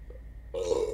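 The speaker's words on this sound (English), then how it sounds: "Sound like a burp and a fart at the same time." A burp-like blurt from a video game, a low rough belch with a flatulent buzz, starting abruptly about halfway through and lasting half a second, loud and close with no talk over it.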